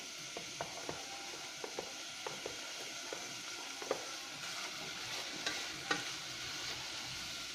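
Quiet sizzling of sausage, artichoke hearts, onions, garlic and peppers frying in a pan for deep dish pizza, with faint intermittent clicks and scrapes of stirring over a steady hiss.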